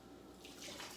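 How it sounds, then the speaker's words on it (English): Thick barbacoa sauce pours from a blender jar over meat in the bottom of a crock pot, giving a steady close-up liquid gush that grows fuller and louder partway through, with no talk. "pour all of this goodness"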